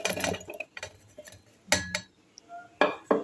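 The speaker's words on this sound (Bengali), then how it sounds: "এইবার আমি একটা মিক্সিং জার নিয়ে নিয়েছি। তার মধ্যে আমি পেঁয়াজ, আদা, রসুন এগুলোকে দিয়ে দিচ্ছি।" Onion, ginger and garlic drop into a mixing jar, giving scattered light clinks and knocks of pieces against the container, in short irregular bursts with quiet gaps between, close and fairly soft.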